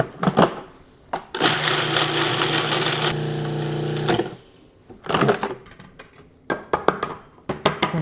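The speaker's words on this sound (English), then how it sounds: "I want to put a few freeze-dried blueberries into the food processor. I'll pulse those up" A food processor pulses freeze-dried blueberries into powder: a short burst, then a long whirring run of about three seconds, followed by several quick choppy pulses with rattling bits in between.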